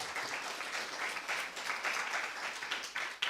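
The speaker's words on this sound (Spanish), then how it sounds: "Denle un fuerte aplauso al Señor, claro que sí." A church congregation applauds together, a steady wash of clapping from many hands that holds at an even level for a few seconds with little else heard.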